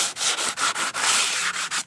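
Boat wood is sanded by hand in quick back-and-forth strokes during restoration, a rhythmic raspy scratching with brief pauses between each pass, close up.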